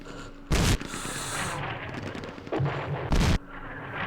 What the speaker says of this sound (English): that's not mortars, that's artillery